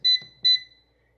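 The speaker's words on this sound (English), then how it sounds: "We're going to push the preheat button, and we're going to preheat it at 350 degrees." An air fryer answers the pressed preheat button with two short, clear high-pitched electronic beeps in quick succession, close by in a quiet room.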